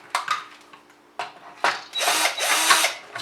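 Long screws being unscrewed from a Magstrike Longrifle toy blaster, heard as short scraping and ratcheting bursts close by, then a longer continuous grinding turn toward the end.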